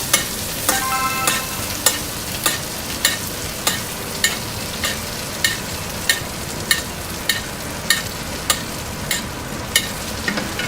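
Beef fillet steak fries in butter in a frying pan with a dense, steady sizzle, punctuated by regular sharp taps about every half second, close by and with no voices.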